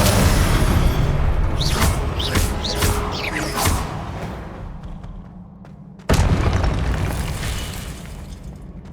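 Confringo blasting spell in the Hogwarts Legacy video game: loud booming explosions with crackling bursts that fade, then a second sharp blast around six seconds that rumbles away.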